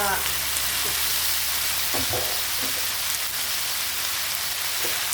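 Corned beef with kalabasa squash frying in a pan gives a steady, loud hiss and crackle, with a few soft scrapes of stirring.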